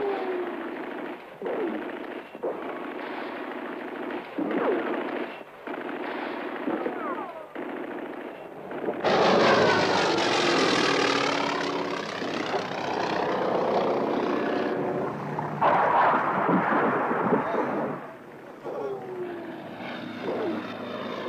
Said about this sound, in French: les moulélistes tirent inlassablement, coup par coup, pour ne pas épuiser les munitions